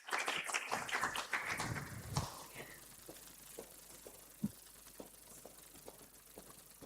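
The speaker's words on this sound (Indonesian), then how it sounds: "Bapak Ibu boleh kita berikan tepuk tangan untuk Wakil Bupati Kupang." A burst of applause rises from the audience at a student community-service send-off ceremony in Kupang, honoring the Deputy Regent. It is dense and loud at first, then thins out after about two seconds into scattered claps and taps.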